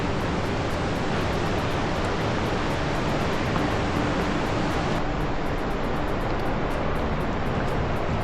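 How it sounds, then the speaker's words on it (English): A fast-flowing Himalayan river and waterfall roar steadily, a dense unbroken rush of white water that stays loud and even throughout, with no voices. "How beautiful is that waterfall?"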